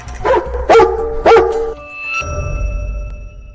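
A dog barks sharply a few times close by, short loud yips in quick succession, followed by a steady electronic tone and low rumble.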